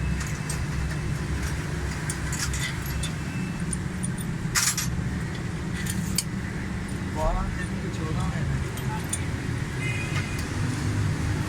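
A 2008 Suzuki Cultus EFI idles steadily with a low, constant engine rumble and faint rattles, a car with an overheating and head gasket fault.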